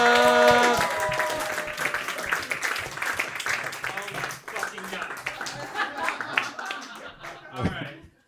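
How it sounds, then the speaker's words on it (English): Audience at a comedy roast battle in New York clapping for comedian Jacob Williams, a dense, sustained round of applause with crowd noise and some talk mixed in, fading out near the end. "start clapping right now for Jacob"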